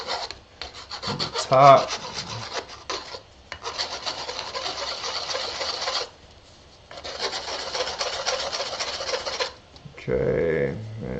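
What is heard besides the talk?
deburring the cut edge of an exploded Nalgene bottle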